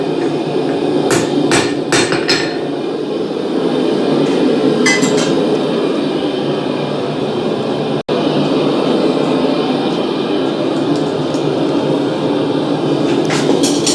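A hammer strikes a top chisel to cut off a hardened steel graver blank about 4 inches long, sharp metallic blows ringing out at intervals over a steady loud workshop background.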